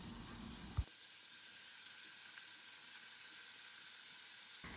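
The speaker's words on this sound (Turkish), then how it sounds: "Şöyle 1-2 dakika karıştırarak kavuralım." Chopped vegetables and red lentils sizzling in a pot while being stirred: a steady, dense frying hiss throughout, with one brief sharp scrape near the start, close by and with no voices.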